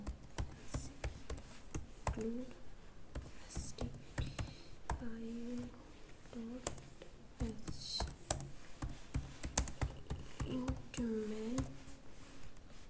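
Programming code is typed on a computer keyboard in quick, scattered clicks and taps, close but soft, while a person talks intermittently over the keystrokes.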